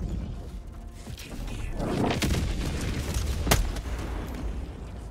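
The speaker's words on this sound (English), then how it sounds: "Incoming meteor storm." Meteor storm impacts in the video game Helldivers 2: heavy booming rumbles and crashing blasts roll through a dense, noisy mix, with one sharp, loud hit near the end over a constant low roar.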